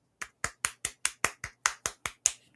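Hand clapping: about ten crisp, evenly spaced claps in a quick steady rhythm, close and clean, with no voices around them.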